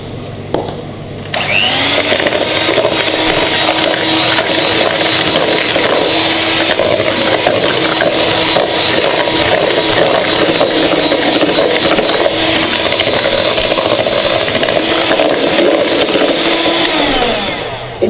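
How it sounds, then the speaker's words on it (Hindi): Eggs and sugar for brownie batter are beaten with a loud, steady whirring motor that starts after a brief quiet moment and runs unbroken to the end. "अंडों को हम थोड़ा बीट करेंगे।"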